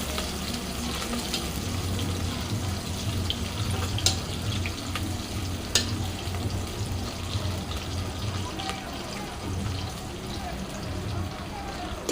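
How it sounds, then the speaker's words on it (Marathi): A large sliced onion fries in a pan for mutton curry, giving a steady, hissing sizzle close by, with a couple of faint clinks and a voice speaking over it at times. "एक कांदा आहे हा मोठा त्याचे मी उभे कापाचे करून घेतलेले आहे सोनेरी होईपर्यंत भाजून घ्यायचा"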